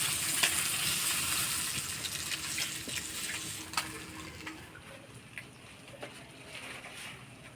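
Hilsa fish curry sizzling in oil, a dense, fairly quiet frying hiss that thins out over time, with occasional sharp pops and spatters close by and no voices.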